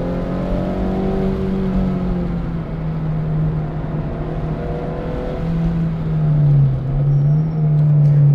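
An OEM+ 8th gen Honda Civic Si out on a track on a cold warm-up lap gives a steady, loud engine drone throughout, its pitch holding and then rising and dipping slightly near the end as it pulls through the gears.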